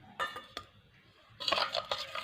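A spoon stirs hibiscus leaf juice into a mixture in a metal vessel, with a few sharp clinks followed by a burst of rapid scraping and clinking up close.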